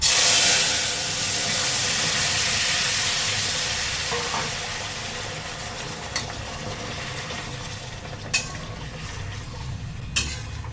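Jackfruit seeds frying in a pan with cumin and torn chillies give a steady close hiss and sizzle that slowly fades, with a few sharp clinks of stirring near the end.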